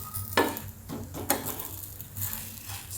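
Snack frying in oil while being turned in a pan, soft sizzling under a few sharp scraping clicks of a spatula against the pan.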